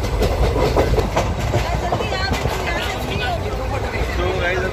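The Bangalore–Jodhpur Express running toward Rajasthan, heard from inside a carriage as a steady loud rumble with faint clickety-clack over the rail joints, while a murmur of passenger voices carries underneath throughout.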